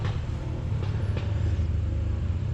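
An old tractor engine runs at a steady idle, a low continuous rumble close by, with no talk over it.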